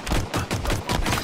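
Rapid, loud gunshots from a sniper rifle in an indie survival horror game, about five sharp broadband bursts close together in just over a second, with no voices.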